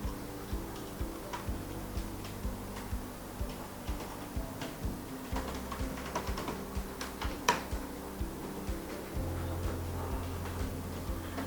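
Details being typed on a computer keyboard, a steady run of light, close key clicks with an occasional heavier tap, against a low background hum with no talking.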